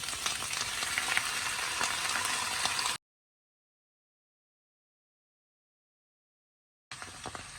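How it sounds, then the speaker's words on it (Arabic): Mushrooms and onions being stirred in a pan for chicken stroganoff: a loud, crackling sizzle with light scraping, broken by a stretch of total silence before the frying sound resumes briefly. "احنا كده قلبنا المشروم تقلبتين كده"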